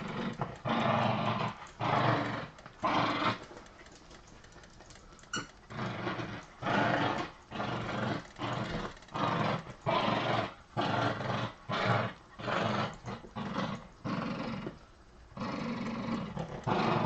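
A feral dog growls and snarls in repeated rough bursts, each lasting a second or so with brief gaps between, loud and close, with no talking over it.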